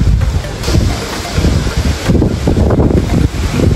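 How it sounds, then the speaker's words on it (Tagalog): Strong wind buffets the microphone in loud, continuous gusts, with a rushing, roaring quality and no voices. "Lakas ng hangin mga kalapatids."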